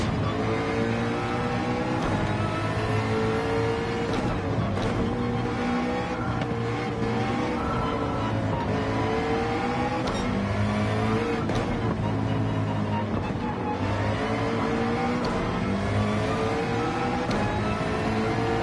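A race car engine screams at full throttle in Gran Turismo 7, with steady high revs that rise and fall through gear shifts and faint tire noise, loud and continuous, with no one talking.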